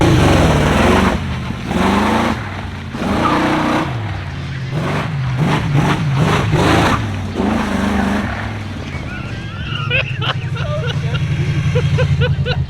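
A V8-swapped Porsche 911 drones and revs while understeering through a donut attempt, the engine's tone rising and falling beneath close talking, then settling into a steady, loud hum.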